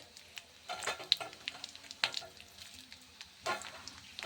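Whole cumin seeds and dry red chilies hit hot oil in a wok, giving a soft, crackling sizzle with scattered sharp pops and spits, fairly quiet and close, with no talking.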